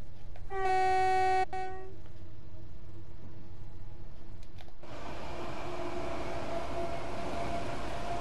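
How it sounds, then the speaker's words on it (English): A Class 375/9 EMU electric train runs through a level crossing in a train simulator. A sustained horn-like warning tone sounds at the start, then steady rumbling train noise continues, rising louder near the end. "Train going over a crossing's always a good thing."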